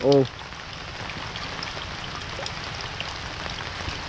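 Steady heavy rain at a farm hisses across the whole clip, a dense even patter on surfaces, with a brief voice at the very start.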